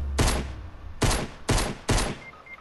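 Four heavy gunshots from a Fortnite squad match boom out loud and close, spaced about half a second apart, each with a short ringing tail.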